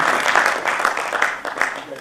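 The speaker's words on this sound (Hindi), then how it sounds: "और आप तालियां बजाइए" An audience at a mushaira poetry gathering in Moradabad applauds, a dense wash of clapping hands that gradually thins out toward the end.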